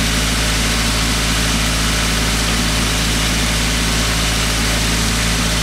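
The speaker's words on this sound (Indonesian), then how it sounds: "Kalau standarnya stasionernya itu sekitar 900 rpm, tapi ini 1000 rpm lebih." A Toyota Avanza engine idles too high, around 1000–1200 rpm, giving a loud, steady, unbroken drone with a constant low hum throughout.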